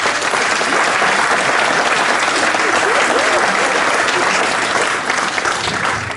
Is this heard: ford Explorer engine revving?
no